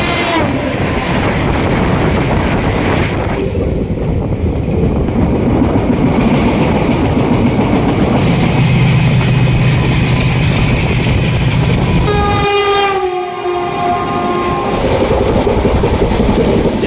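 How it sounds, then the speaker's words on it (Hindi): The Jammu Tawi–Ahmedabad Somnath Express passenger train, number 19224, runs on rails with a steady loud rumble and rattle heard from on board throughout, and a brief tonal whine rising near the end. "आज की जर्नी है train number one nine to to four Jammu Tawi Ahmedabad Somnath express में"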